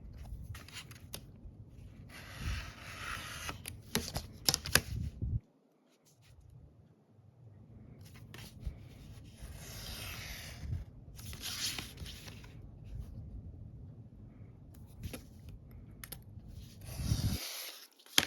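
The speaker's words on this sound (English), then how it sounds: "I am going to use my metal edged ruler and X-Acto knife" An X-Acto knife draws through paper along a metal-edged ruler, giving long, quiet scraping strokes with a brief pause midway and a sharper scrape at the end, close up.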